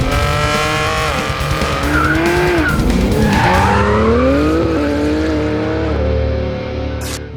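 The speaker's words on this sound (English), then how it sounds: "This is a BMW M3, but where the standard 3-litre straight six produces 510 horsepower" A 1000hp BMW G80 M3 with a tuned 3-litre straight six drives hard on a test track, its engine loud and close as revs climb and fall with squealing tires through corners.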